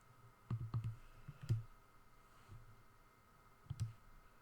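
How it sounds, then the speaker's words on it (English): Several quiet button presses on a calculator keypad in an indoor setting, a quick cluster of clicks followed by a single tap and a later pair, soft and close with no talking. "So I'm typing this again in my calculator."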